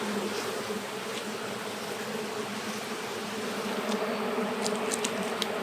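Honey bees hum steadily around an open hive during a frame inspection, a dense continuous drone close by, with a few sharper buzzes of individual bees passing near toward the end.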